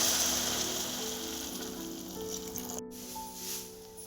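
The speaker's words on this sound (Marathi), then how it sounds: "गरम केलेले पाणी घालावे" Hot water poured into a sizzling pan of masala pulao with sautéed vegetables and cashews gives a steady close hiss that slowly fades, with no talking.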